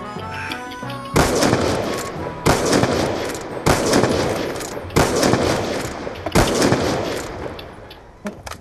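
Gunfire in Black Ops 2 during a one-on-one match comes as six loud, evenly spaced heavy shots about a second apart, each followed by a decaying roar.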